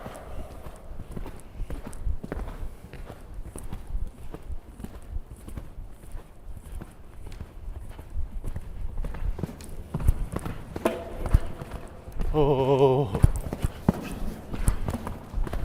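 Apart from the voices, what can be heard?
horse hooves during show-jumping training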